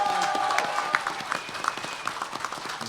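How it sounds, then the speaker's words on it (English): A convention panel crowd claps in steady applause, fairly close, with a few faint whistles and tones ringing over it. "everybody give a round of applause to George."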